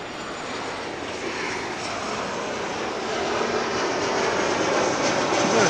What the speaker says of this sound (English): This is Delta Flight 811. It's going to Miami. The 737-900.